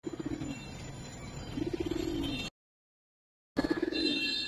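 Giribaz pigeons cooing in a loft, close and fairly soft, with repeated throaty rolling coos in short bursts and a brief gap of silence partway through.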